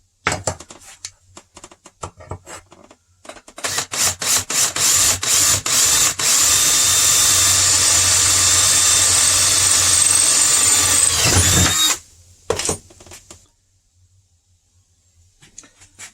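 A power drill whirs steadily for several seconds after a few short bursts and clicks, drilling holes while installing a Onewheel suspension kit, then stops, followed by faint handling noises.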